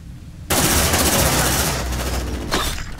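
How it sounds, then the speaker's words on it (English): Automatic weapons in the video game Aliens Dark Descent open up after a short quiet lead-in, then roar as a loud, sustained stream of rapid gunfire that eases slightly toward the end. "Under heavy fire!"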